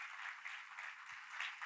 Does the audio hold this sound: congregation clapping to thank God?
yes